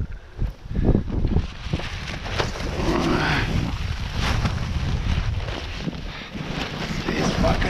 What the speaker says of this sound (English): It's fucking windy, guys.